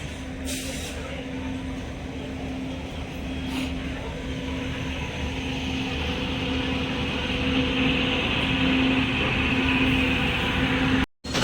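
A passenger train bound from Sainagar toward Kakinada port pulls into a station, its steady rumble and a sustained horn-like tone running throughout, with a sharp break near the end.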